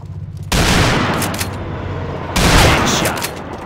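Two loud, close sniper rifle shots in a 1v1 sniper-only video game match, each a sharp boom followed by a long ringing decay, the second coming about two seconds after the first.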